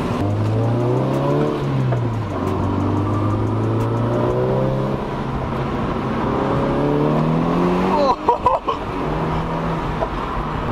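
A Volkswagen Golf accelerating hard from inside the cabin, the engine note climbing steadily through the gears with a loud continuous drone, then a brief rattle of shifts and bumps near the end.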